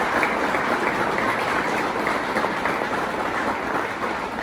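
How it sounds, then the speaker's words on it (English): A crowd applauds for Dave at an Edwardsville Rotary Club criterium wrap-up gathering, a dense, steady wash of clapping that holds at an even level throughout with no voices over it. "I get a round of applause for Dave"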